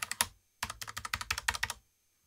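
Typing on a Logitech G915 X Lightspeed mechanical keyboard gives crisp, close clicks: a short burst, a pause, then a steady run of keystrokes, with no talking.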